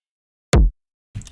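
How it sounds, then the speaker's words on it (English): A single deep, punchy kick drum thump sounds alone after silence, followed shortly by a quieter second hit with a touch of brighter noise. "Absolutely love this kick."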